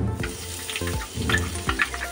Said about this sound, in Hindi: इसमें ऑयल डाले, ऑयल को गरम करने रखे। अभी इसमें डालेंगे अनियन।